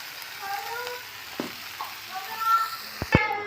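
A fish tona dish sizzles as it fries in a pan and is stirred, producing a steady crackle with a few sharp utensil clatters near the end.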